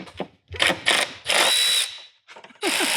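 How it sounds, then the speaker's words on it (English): Power tool driving a bolt on a diesel Jeep Wrangler, with several short loud whirring bursts and pauses between them, ending in a sustained burst. "You have to remove this bolt, take it out and flip it and put it reverse and put a nut on the end of it."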